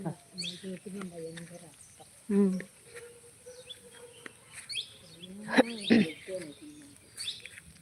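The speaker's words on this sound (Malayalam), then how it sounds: "ഇത് കിളികളൊച്ച" Small birds chirp and tweet in scattered bursts at a park-like hill resort, some calls near and sharp, others faint, with voices talking in between.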